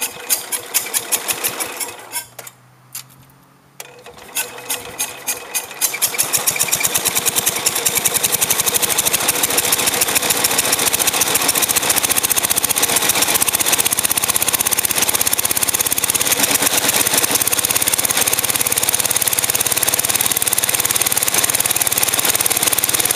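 A Cub lawn tractor engine cranks briefly, catches and starts, then settles into a loud, steady, buzzing idle that runs continuously up close with no talking.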